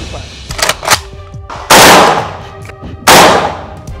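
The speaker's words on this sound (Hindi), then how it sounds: "AK-203 से फायरिंग कर दुनिया के सबसे आधुनिक राइफल की ताकत आजमाई" AK-203 assault rifle fired at an outdoor shooting range: a few quick close shots and clanks, then two very loud, long reverberating bursts of gunfire.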